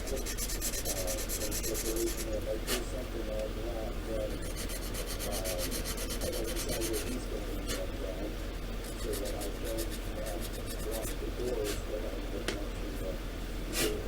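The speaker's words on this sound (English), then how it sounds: "This plastic's pretty soft. It's filing away really nice and quick." A soft plastic part from a Moebius Models 2001: A Space Odyssey EVA pod kit is filed in steady rasping strokes, close and continuous, with brief pauses and a voice faintly under it.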